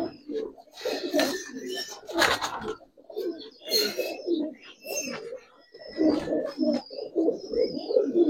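Fitki pigeons cooing at a pigeon market, repeated soft low coos close by in irregular bursts, with occasional wing flutters and faint voices in the background.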